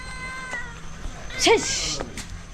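A cat meows once clearly in the middle, a short rising-falling cry over faint background noise and soft voices.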